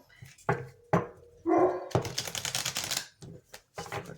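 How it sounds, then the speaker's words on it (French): A Pyrenean mountain dog barks repeatedly nearby in loud, sharp bursts, the barks closely spaced and dominating the sound. "C'est mon chien qui aboie."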